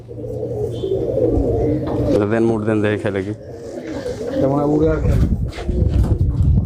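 Tumbler pigeons coo repeatedly and loudly nearby while someone talks over them throughout.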